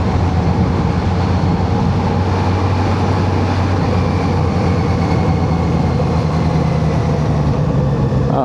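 A 2026 Kawasaki Z900RS motorcycle pulls in sixth gear from about 30, its engine giving a steady, loud, low drone mixed with heavy wind rush that runs unbroken throughout.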